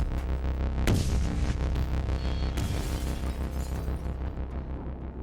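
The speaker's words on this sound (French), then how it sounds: "La cheminée de l'immeuble s'effondre, traversant les plafonds et planchers de chaque appartement" A building's concrete chimney collapsing down through the floors and ceilings of apartments, heard as a crash sound effect with two heavy booming impacts a couple of seconds apart, each followed by rumbling debris and a long fading roar.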